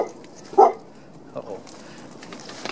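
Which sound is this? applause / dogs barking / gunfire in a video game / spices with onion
dogs barking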